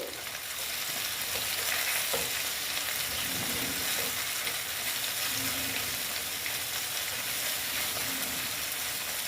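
Grated tomato and onion fry in oil with a steady, bright sizzle and occasional stirring scrapes, moderately close and unbroken throughout, without any talking.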